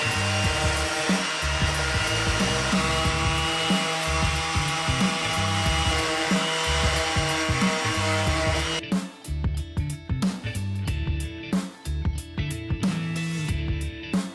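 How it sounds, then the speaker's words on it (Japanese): An electric power sander buffs a taxidermied pufferfish, a steady loud whir that runs continuously, its tone shifting partway through as pressure on the surface changes. "大変なんで、もう電動でやります。 よっしゃー、磨いていきましょう。"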